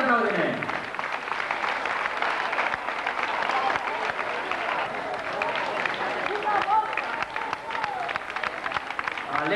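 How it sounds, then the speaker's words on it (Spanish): Applause and cheering from roadside spectators greet runners in the tenth Sueca foot race of 1997, sustained clapping that fills the whole stretch while an announcer talks over it. "Han empezado a donar un fuerte aplaudimiento."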